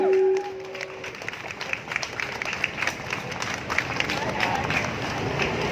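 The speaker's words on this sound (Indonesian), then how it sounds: "请大家为他们欢呼鼓掌" Crowd at an outdoor rally for migrant workers in Taiwan breaks into sustained applause and cheering, a dense wash of clapping that follows a short tone at the start and holds steady to the end.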